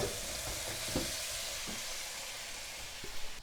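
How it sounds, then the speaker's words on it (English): Tomatoes sizzle in a pan of spaghetti allo scarpariello sauce, a steady loud frying hiss with a few soft stirring scrapes and knocks throughout. "Now we get to add our tomatoes"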